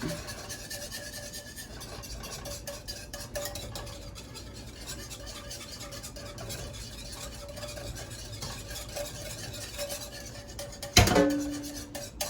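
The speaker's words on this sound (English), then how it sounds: "we're gonna start to whisk this out" Whisk stirring gravy with beef broth in a pan, a continuous scraping, clinking rhythm of metal against the pan, with a sharper clank near the end.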